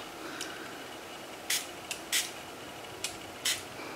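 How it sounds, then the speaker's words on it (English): A few short hissing bursts of water from a spray bottle onto ink on Yupo paper, spaced irregularly against a quiet background, with fainter clicks of the trigger between them. "I'm just going to need to spray it with some water."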